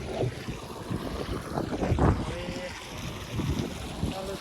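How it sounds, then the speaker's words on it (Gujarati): A farm water pump motor runs in an open field as a steady low rumble mixed with gusty wind noise, while a person talks over it. "ચાલુ થઈ ગઈ છે મોટર આપણે"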